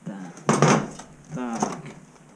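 A cooking pot handled in a home kitchen, two close knocks and scrapes of metal about a second apart, with faint talk nearby.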